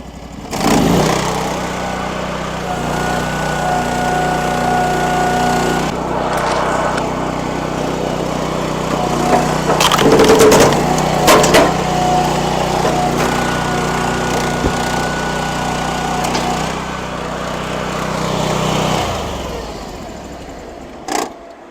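A RIMA LS37PRO log splitter with a 4-way wedge splits wood, its engine droning steadily and close throughout, with a brief rise in strain partway through.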